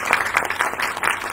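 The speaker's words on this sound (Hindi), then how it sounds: "बहुत सारी तालियां होनी चाहिए" An audience at a Fatima Jinnah Women University event claps in a brief, rhythmic burst of applause.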